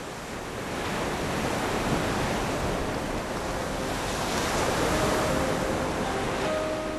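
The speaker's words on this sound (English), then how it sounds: "As the gentle waves of Bay of Bengal orchestrate a gentle tune of romanticism" Gentle waves of the Bay of Bengal wash steadily onto the shore in a continuous, moderately loud surf wash, with light wind noise and no voices.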